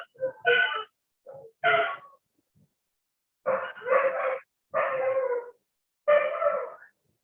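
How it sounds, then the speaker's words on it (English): Several dogs barking in bursts, a few short yaps and then longer loud barks in uneven groups with silent gaps between, fairly close and with no talk. "Lots of dogs barking because they have."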